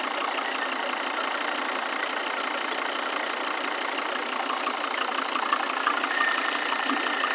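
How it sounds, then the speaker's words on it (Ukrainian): A 2011 Volvo V60 with a 2.0 D3 diesel engine and automatic gearbox idles steadily, giving a close, even, continuous clatter and hum with no revving and no voices. "Тут робота двигуна."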